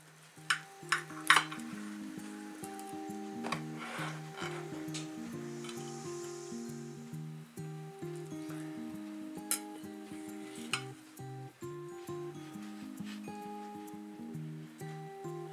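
A knife clicks against a plate or board while a chorizo and potato tortilla is cut, a few sharp taps early then sparse soft scrapes and clinks under background music, fairly quiet with no talking.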